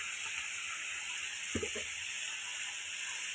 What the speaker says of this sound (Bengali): আমি আলু ভাজতে থাকবো আর এই গুঁড়া মশলাগুলো আমি একটু অ্যাড করতে থাকতেছি